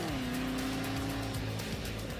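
A Camaro's engine pulls hard on a quarter-mile drag run, a loud, steady droning roar rising slightly in pitch as it accelerates, with a faint edge of tire noise and no talking.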